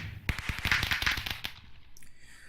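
Fireworks launch in a modded Minecraft game, a fast burst of sharp crackling pops lasting about a second, followed by a faint fizz, fairly quiet, with no talk.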